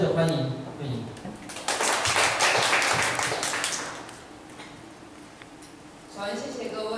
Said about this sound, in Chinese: 我们就掌声的欢迎慧莹